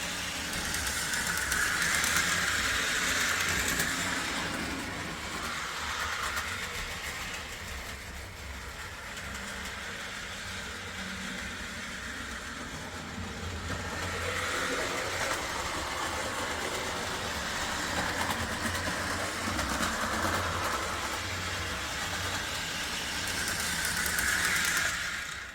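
A postwar Lionel Pullmor toy train motor runs on DC power with a continuous buzzing whir and rumble that rises and falls slightly in intensity over a long, steady stretch, with no talking.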